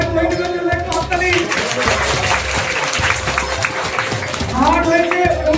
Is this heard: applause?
yes